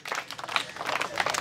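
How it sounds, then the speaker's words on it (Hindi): An audience at a comedic street game performance clapping together in a continuous rippling burst of applause, moderately close and steady throughout. "ताली बजाओ सारे आदमी"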